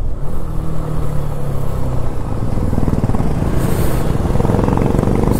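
Several motorcycles, including a Royal Enfield Meteor, KTM, Apache and Himalayan, ride together on a Sunday morning group ride in Uttarakhand, with loud close engine drone and throttle pulses throughout.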